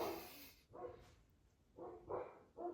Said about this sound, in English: They've been barking forever